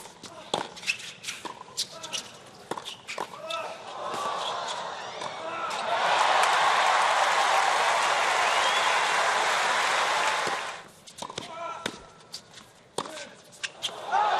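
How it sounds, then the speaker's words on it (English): Tennis crowd bursts into applause after a trick shot, a dense clapping wash rising at once and holding for several seconds before cutting off, framed by scattered crowd noise, shuffles and thuds before and after. "The crowd appreciated."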